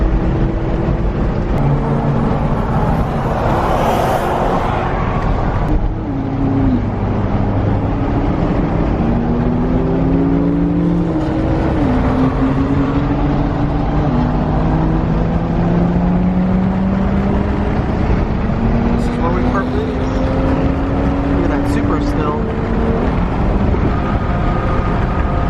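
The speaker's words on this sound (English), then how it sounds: "Supra was moving on that turn." Toyota Supra import car with a big turbo driving through a turn, steady loud engine drone with rising and falling tones as it shifts and accelerates, continuous and close for the full stretch.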